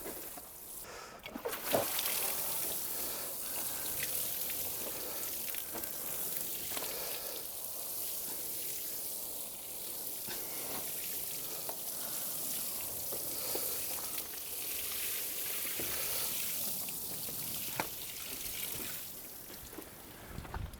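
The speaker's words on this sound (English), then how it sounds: "So I've put around 60 litres of water, or 6 watering cans worth, on both of these 2 beds." Water poured from a watering can soaking soil beds inside a polytunnel, a steady splashing patter running throughout with a few sharper drips and knocks, fairly close and without speech.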